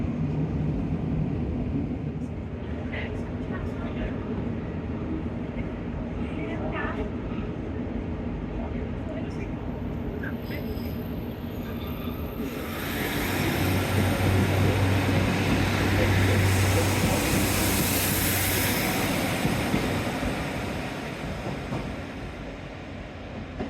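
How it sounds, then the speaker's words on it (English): A train runs toward Paignton near a bridge over Town Quay in Newton Abbot. A steady, distant rail rumble grows louder and brighter in the second half as the train draws closer. "Now as that train continues on its way to Paynton, it will head underneath that bridge."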